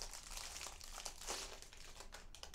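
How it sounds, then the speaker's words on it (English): Cellophane wrapping on a Radtel RT 860 handheld radio is pulled open, giving a continuous close crinkling and crackling across the whole stretch with no talk. "I'll just open the cellophane."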